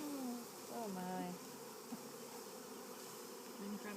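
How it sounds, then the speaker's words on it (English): Honeybees swarm with a dense, steady buzz while being brushed into a new hive outdoors, a soft continuous hum with a few individual bees whining past nearby. "It's fun to brush bees."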